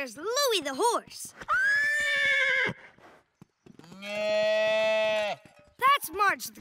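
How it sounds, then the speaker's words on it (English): A cartoon horse whinnies with a long, bright, wavering call, followed by a lower drawn-out animal cry. Brief voiced character sounds come at the start and the end. "There's Louie the horse."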